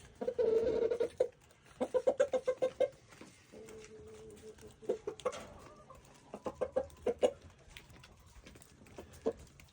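Black leghorn hens and other chickens cluck in a farm yard, with repeated short clucks in bursts close by and softer scratching and shuffling between them.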